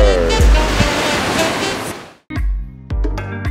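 Surf on the sea below a restaurant in a converted old Dutch hospital in Galle, Sri Lanka: a loud, broad wash of breaking waves for about two seconds, then a brief cut and rumbling water with sharp splashes.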